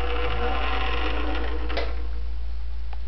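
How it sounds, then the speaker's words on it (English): An electric motor on a Puma560 robot arm runs with a steady mechanical whir over a constant low hum, a brief clack partway through, then settles into a quieter hum. "we got one motor hooked up back here"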